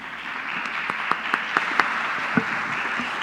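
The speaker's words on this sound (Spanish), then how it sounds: "Recibámosla con un fuerte aplauso" An audience at a conference on artificial intelligence welcomes a professor with steady applause, a dense wash of clapping with a few louder individual claps standing out near the front.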